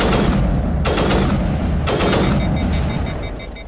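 Burst sniper rifle fire in the sci-fi shooter Mass Effect: loud, dense rapid bursts that swell and cut off twice, with a lighter trailing volley toward the end, no talking.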